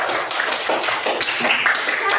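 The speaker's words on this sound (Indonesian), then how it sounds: "kasih tepuk tangan untuk kelompok 1" An audience claps for a group, a brief burst of scattered hand claps close by with some light voices mixed in.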